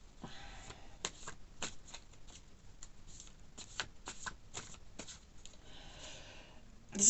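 Tarot cards being shuffled by hand: a quiet run of brisk, papery riffles and slaps in irregular bursts, close to the microphone, with no talking.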